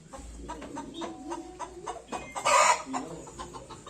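Chickens cluck in short repeated bursts nearby while a rooster lets out a brief loud crow in the middle.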